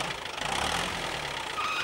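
The Little Red Tractor's engine runs with a steady mid-pitched chugging drone, fairly close and even, with a speaking voice faintly underneath.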